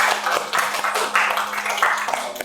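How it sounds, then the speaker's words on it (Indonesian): A classroom group clapping together, a dense and loud patter of many hands with slight rhythmic surges, heard up close for a couple of seconds. "Beri tepuk tangan."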